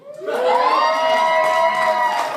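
A live podcast audience at a zombie-movie themed night breaks into loud cheering and whooping, a dense crowd roar that swells quickly and holds steady for a couple of seconds.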